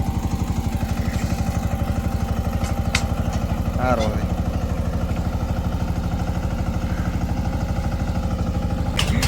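An Eicher 188 mini tractor engine chugs steadily nearby, a rapid, even low thumping throughout with some clatter, while someone speaks briefly over it.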